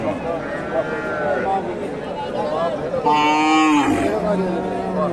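At a cattle market, a Sahiwal heifer calf and local cows give a loud, close, drawn-out moo midway, with fainter lowing and general market noise around it.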